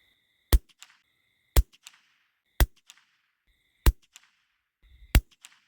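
Five sharp, loud rifle shots spaced about a second apart, each followed by a brief echo, with a steady electronic beeping tone between shots, outdoors during a deer hunt.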